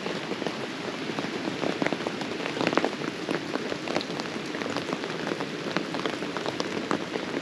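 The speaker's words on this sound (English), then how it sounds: "another rainy adventure. Hasn't let up all weekend" Steady rain falls on a campsite beside the Grays River in Wyoming, a dense, even patter with scattered louder drops pinging on nearby surfaces.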